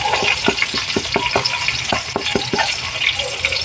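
Squid rings (calamares) frying in a pan, a bright continuous sizzle with a dense series of quick taps and scrapes from stirring, close and fairly loud, no talking.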